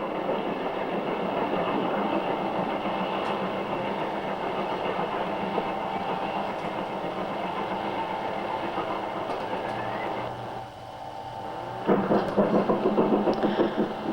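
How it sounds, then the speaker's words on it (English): Branch steam train from Highbridge to Evercreech Junction pulling out of Shapwick station in winter, a steady rumble and rhythmic clickety-clack of carriages rolling past, loud and continuous, with a brief dip then renewed clatter near the end. "Branch train from Highbridge to Evercreech Junction leaves Shapwick"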